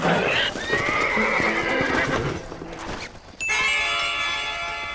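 A horse whinnies loudly and close in Red Dead Redemption on PC, then hooves clip-clop as it moves off, with game ambience and a brief chime-like tone near the end.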